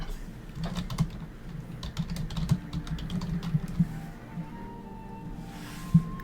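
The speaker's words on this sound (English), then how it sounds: "My fucking typing." Fast, uneven clatter of keys on a computer keyboard, close and fairly loud, with sharper individual keystrokes standing out over a continuous tapping stream and no talking.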